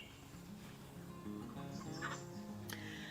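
A backyard flock of egg-laying chickens clucks faintly in the distance, soft scattered calls over a low steady hum.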